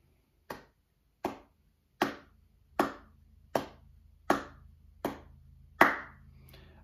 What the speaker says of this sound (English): So we're going to clap each dot like this.